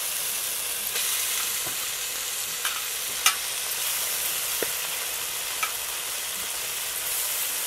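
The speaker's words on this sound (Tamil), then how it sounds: "கீரை வந்து நல்லா எண்ணெயிலே வதங்கணும்." Spinach sautés in oil after tomatoes in a pan, giving a continuous, even sizzle with a few faint clicks and taps from a utensil.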